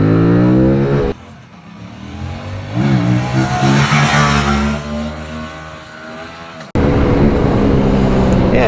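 Engine of a 2025 Aprilia Tuono 457 motorcycle revving hard during stand-up wheelies, a loud, continuous, close roar that eases and swells again, with a brief drop in the middle.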